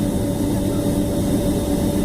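An Air France Airbus A321 airliner at Schiphol airport, Amsterdam, on a very windy day, producing a steady low jet engine rumble with a constant whine, continuous and moderately loud, without speech.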